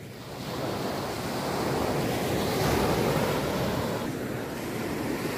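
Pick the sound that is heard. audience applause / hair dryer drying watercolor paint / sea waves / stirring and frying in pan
sea waves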